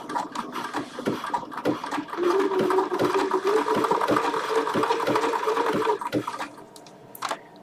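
A Bernina sewing machine stitching, a rapid rhythmic mechanical chatter of needle strokes in short bursts, then a sustained humming run of stitching before it slows and stops, close and clear.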